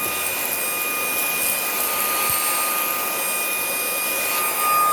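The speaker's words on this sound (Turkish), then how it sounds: "kademeli, şarjlı el süpürgesi" A steady, loud electric whir of a cordless handheld car vacuum motor running continuously, with a high-pitched whine and no talking.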